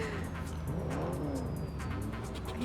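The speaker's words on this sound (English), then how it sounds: "Why do I hear revving engines?" Car engines rev and roar continuously in Cyberpunk 2077, with rising and falling pitch sweeps as vehicles accelerate nearby, loud and unbroken with no talk.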